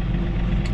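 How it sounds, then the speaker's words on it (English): A John Deere tractor with eHydro transmission, auto throttle switched off, idles steadily with a low, constant engine rumble through a brief moment, no talk over it. "I got my auto throttle off, so I'm just idling back here."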